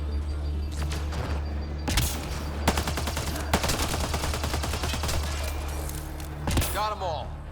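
Rapid bursts of gunfire from a firefight in the Mass Effect: Andromeda video game, with dense volleys and sharp single shots over a low steady rumble. Game voices speak over parts of the exchange.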